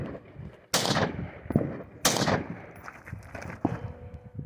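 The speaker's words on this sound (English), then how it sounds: "Start shooting offhand initially." Gunfire at a Tucson Black Hawk Down anniversary shooting match, fired offhand: two loud, sharp nearby shots with ringing decay, then fainter distant pops and a third lighter report near the end.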